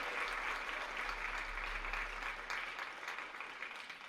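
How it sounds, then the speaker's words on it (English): An audience applauds volunteers at a school talk on character, a dense wash of steady clapping that holds for several seconds and thins slightly toward the end. "How about a huge round of applause for the volunteers?"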